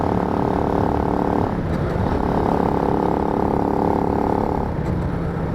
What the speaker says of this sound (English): That does sound like a leg shield rub, or a suspension rub, one of the two.